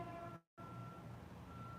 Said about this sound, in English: And there's this truck beeping.